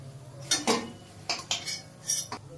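Fried boras being lifted out of a pan of oil with a metal utensil: a handful of sharp, separate clinks and scrapes against the pan, fairly quiet, with pauses between them.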